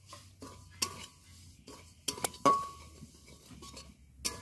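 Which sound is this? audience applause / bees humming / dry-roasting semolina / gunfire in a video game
dry-roasting semolina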